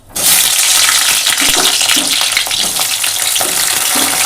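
Onion goes into hot oil in a pan already holding dried red chillies, cardamom and cloves, bursting into a loud, steady close sizzle that continues with some stirring clatter.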